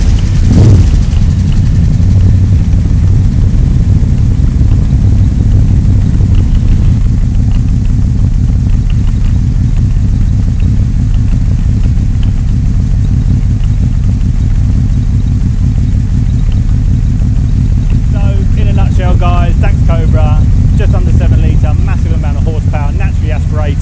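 A deep, steady rumble from a 7-litre V8 in a Dax AC Cobra replica runs throughout, loud and continuous, with a voice briefly talking over it near the end.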